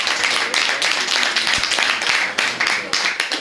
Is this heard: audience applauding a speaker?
yes